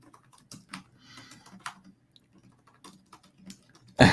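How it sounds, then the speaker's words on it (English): Keys on a computer keyboard tapped in quick, uneven bursts with short pauses, close by, ending in a louder thump. "I'm typing"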